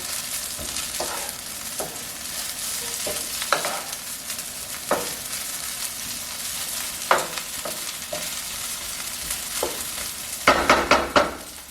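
Cold refrigerated rice frying in butter for bacon fried rice, a steady sizzle broken by repeated scraping stirs and clacks of a utensil against the pan, growing busier toward the end, no talking.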